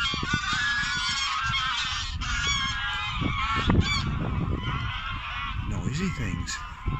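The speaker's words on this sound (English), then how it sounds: "here come the goose." Canada geese honk loudly and repeatedly as a flock flies in over a windy Warwickshire reservoir, the calls continuous and close, with wind noise and a man's brief remarks underneath.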